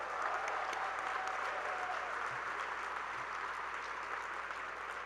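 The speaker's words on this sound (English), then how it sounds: "Can I get a round of applause for that?" Sustained audience applause at a college-wide celebration marking the launch of a first bachelor's degree, a dense, steady wash of clapping from a large crowd that holds evenly throughout without pause.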